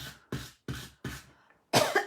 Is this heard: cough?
yes